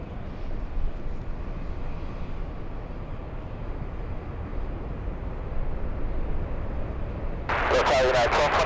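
A heavy Boeing 777 lands at LAX, its broad steady jet roar filling the air at moderate distance, with a brighter, louder burst of engine noise rising near the end.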